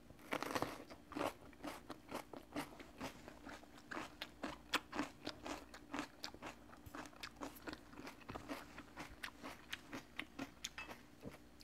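Crunchy bites of fresh paprika bell pepper, eaten as part of a Chinese-style home meal. A dense series of sharp, close crunches and chewing sounds follows in an irregular rhythm, with no talk.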